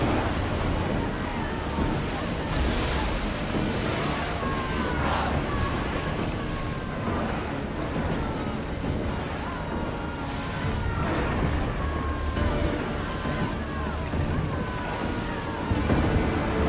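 Ship crossing ocean waves in Assassin's Creed Odyssey: a steady, loud wash of surf and wind rushing throughout, with faint creaks and splashes from the rowed vessel, constant and close.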